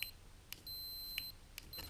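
A multimeter on continuity mode beeps while testing the micro switches of a Ti Motion motor under repair, with short sharp tones and a longer sustained beep, close and clear over quiet background hiss.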